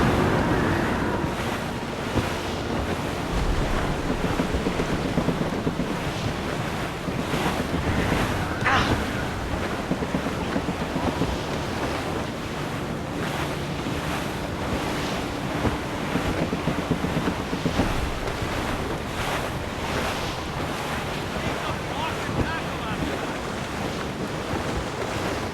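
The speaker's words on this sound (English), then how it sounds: "Wind's getting vicious." Strong wind roars steadily over crashing ocean waves on the open sea aboard a sailing ship in the Assassin's Creed Rogue video game, a loud continuous wash with no pauses.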